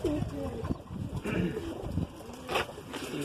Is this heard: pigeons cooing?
yes